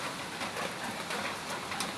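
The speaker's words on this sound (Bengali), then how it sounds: "বৃষ্টিগুলো আসতে গেছে" Rain falls steadily on a rooftop where pigeons bathe, a continuous soft hiss of drops hitting the surface with no voices.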